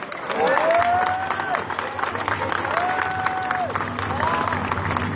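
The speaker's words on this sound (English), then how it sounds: "So I just want to give applause to yourself." Crowd applause and cheering in the House of Assembly, a steady wash of clapping with voices calling out over it.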